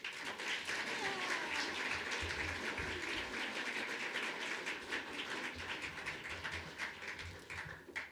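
Audience applause at a university State of the University address greeting the student body president, sustained dense clapping from a large crowd, steady and fairly loud throughout, with no speech over it.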